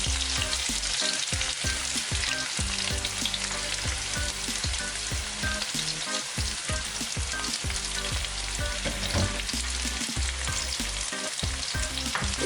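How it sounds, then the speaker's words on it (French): Onions frying in hot oil give a loud, steady sizzle with crackling spatters and occasional stirring scrapes throughout, close up, with no talking. "je vais venir mettre mes oignons dans de l'huile"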